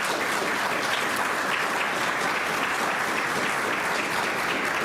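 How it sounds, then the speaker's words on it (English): Audience members at an Oklahoma Route 66 centennial gathering applaud state legislators, producing a thick, unbroken wash of clapping that holds at a steady, fairly loud level throughout. "These legislators deserve a round of applause for that type of commitment."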